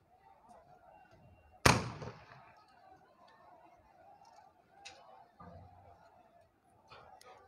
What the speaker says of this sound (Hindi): देखिए पुलिस के द्वारा फायरिंग की जा रही है